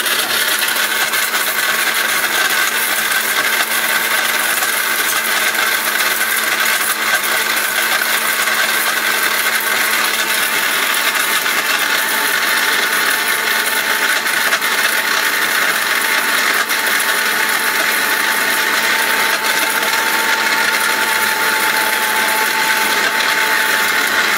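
An electric blender, rated 1000 watts, runs steadily and loudly on its own for the whole stretch, a continuous high whirring motor drone with no breaks.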